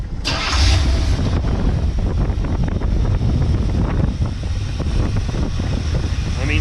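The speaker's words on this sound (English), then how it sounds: "We'll go ahead and fire it up for you again." A 1980 Corvette with a new intake and carburetor fires up with a sharp crank, then settles into a loud, rough, rumbling idle close by, with wind buffeting the microphone.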